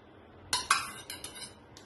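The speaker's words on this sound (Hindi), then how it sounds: "इसको हम अच्छे से मिक्स कर देंगे।" Semolina and curd being stirred in a bowl with a spoon, giving a few sharp metallic clinks and scrapes against the bowl in quick succession, close and fairly quiet.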